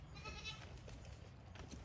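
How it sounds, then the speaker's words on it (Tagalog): A young native goat kid bleats on a farm in short, faint cries, heard at a distance over a low background rumble. "So ito yung anak naman ng ating native na kambing."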